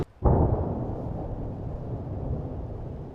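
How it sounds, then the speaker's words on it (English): Airstrikes over southern Lebanon: one deep blast booms in after a brief quiet, then a long low rumble rolls on, heavy and distant, with no speech. "Probably airstrikes over there in southern Lebanon."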